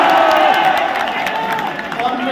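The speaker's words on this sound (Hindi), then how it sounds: "ताली बजा दो पूरा के पूरा" Audience at a live comedy show tribute gathering applauding and cheering, a dense loud wash of clapping and crowd noise that holds steady then eases slightly across the span.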